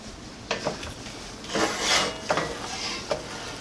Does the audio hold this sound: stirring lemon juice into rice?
yes